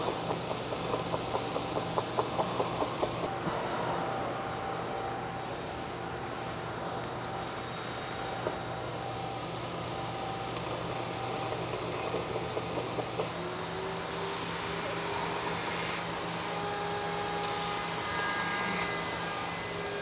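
A belt sander runs continuously as it shapes the arm contour of a guitar body, its belt left without tension. The steady motor hum and gritty abrasion carry on throughout, with faint rhythmic ticking early and slight shifts as pressure changes.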